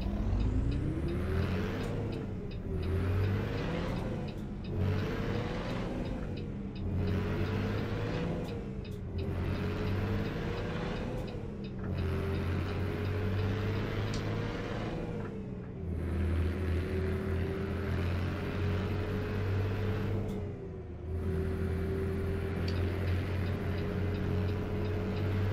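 A Cummins NH 220 engine in a truck in American Truck Simulator, heard from inside the cab, drones steadily with a low rumble and pitch that rises and falls through repeated gear shifts over about twenty-five seconds.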